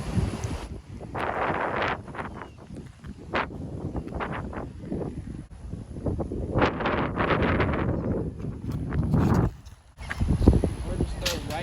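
Wind gusting across a disc golf course at Hiller Park, a steady broadband rushing that rises and falls through most of the stretch, with someone talking over it at close range.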